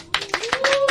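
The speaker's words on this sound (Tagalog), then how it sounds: "Palakpak naman." A short burst of hand clapping from a small group in a late-night radio booth, close and brief, with a voice cheering over it.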